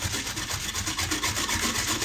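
A knife scrapes rhythmically against food while preparing a country chicken dish, fast repeated rasping strokes, close and fairly loud, with no talking.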